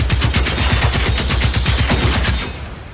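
Rapid automatic gunfire from weapons in the video game Generation Zero, a loud, steady burst of evenly spaced shots for about two and a half seconds before it cuts off.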